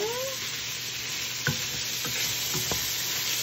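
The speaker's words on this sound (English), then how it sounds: "So I'm going to add in a bit more butter." Butter sizzles steadily in a hot pan for a gnocchi soup, a constant bright frying hiss broken by a few soft stirring scrapes, with no voices.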